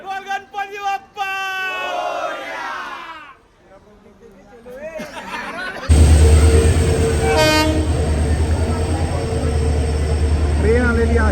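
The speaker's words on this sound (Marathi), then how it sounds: "ट्रेन आलेली आहे आपली जगन्नाथपुरीची पुरी एक्सप्रेस" People chant and cheer loudly on a station platform, then the Puri Express passenger train rolls in with a heavy, steady rumble of wheels and a brief horn or screech, voices continuing over it.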